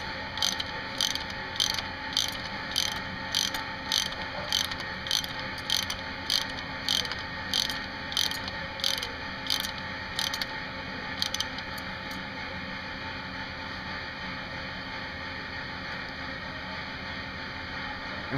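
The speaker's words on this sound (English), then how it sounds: "Hold your tine in place, centered, and tighten down your nut." A wrench ratchets down a nut holding a centered tine on a Barber surf rake, giving a steady run of sharp metallic clicks in quick bursts for about eleven seconds before stopping, close and clear with no talk.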